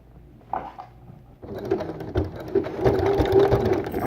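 A sewing machine hems a stretch-knit Henley T-shirt, starting after a quiet pause with a few handling knocks, then running in a steady, close mechanical whir that builds and continues to the end.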